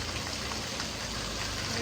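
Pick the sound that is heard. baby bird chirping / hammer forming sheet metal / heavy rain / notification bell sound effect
heavy rain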